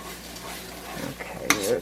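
Venison stir-fry with onion cooking in a pan, a steady sizzle and stirring that grows busier toward the end, with a bright scrape of a utensil against the pan, no voices.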